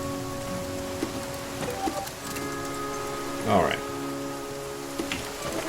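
Rain falls steadily in the video game The Flame in the Flood, a continuous patter with a few drop ticks, heard under a short spoken word and some game tones.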